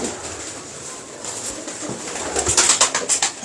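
Pigeons coo softly amid a hissy outdoor background, with a few brighter chirps and rustles growing louder toward the end.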